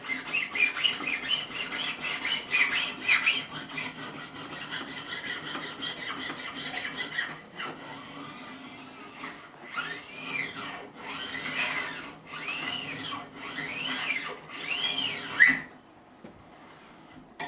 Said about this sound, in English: Always making sure I'm using the flat edge of the file, because there is one really, really flat edge.